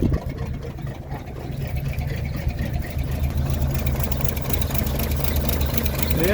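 A 1951 GMC Van Pelt fire engine idles after a long cold start, its low, rough engine rumble steady and moderately loud, swelling slightly partway through.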